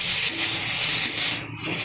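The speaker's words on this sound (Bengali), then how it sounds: "দেখুন আমি মাংসটাকে একটু হালকা করে কষিয়ে নিচ্ছি" Meat being lightly sautéed in hot oil sizzles with a steady, close, broadband hiss. The sound holds throughout with only a brief dip near the end and no talk.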